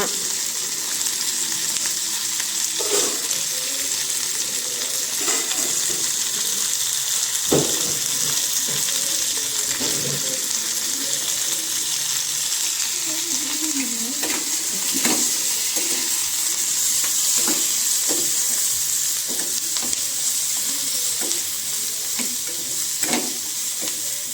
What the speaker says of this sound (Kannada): ಇವೆಲ್ಲ ಹಾಕ್ಕೊಂಡು ಫ್ರೈ ಮಾಡ್ಕೊಬೇಕು.